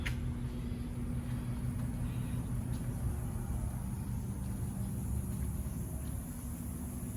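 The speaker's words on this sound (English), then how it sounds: "sorry about the cooler noise." An air cooler runs nearby with a constant droning hum and fan whoosh that stays even throughout.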